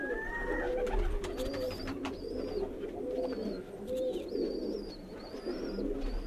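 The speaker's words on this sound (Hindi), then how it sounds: "ये स्लेटी कबूतर है जी मेरा बड़ा पुराना" An old slate-grey loft pigeon coos repeatedly in a regular rhythm of soft, low calls, close by, while thin higher chirps from other birds sound over a steady background.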